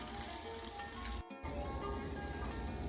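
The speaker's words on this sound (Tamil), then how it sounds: "அந்த நெய்யிலேயே வந்து கொஞ்சம் ஃப்ரை பண்ணிக்கலாம்" Rice frying in ghee in a pan for jeera rice, a steady loud sizzle and crackle that briefly cuts out for a moment before resuming.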